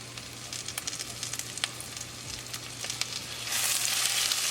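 Ginger, garlic and green chili fry in melted butter with cumin seed, a steady close sizzle with scattered pops and spatters that swells louder near the end, with no voices.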